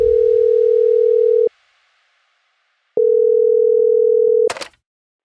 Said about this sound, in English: David decided to act and call the FAA office in Boston.